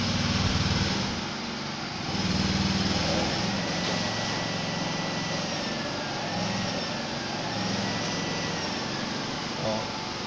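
A motorised air pump runs steadily for oxygenating a catfish pond on a farm, giving a continuous mid-level hum with a rough low rumble throughout and no clear pauses.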